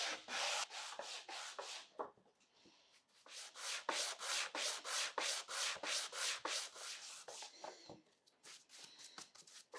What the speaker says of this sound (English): I started with 80 grit and then went through the grits up to 320.